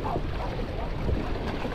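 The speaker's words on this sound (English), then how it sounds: "I didn't think it was gonna be this windy" Strong wind on open water during a New Year's Day fishing outing, a steady, close buffeting roar and rumble that fills the whole moment without letup, with no one talking.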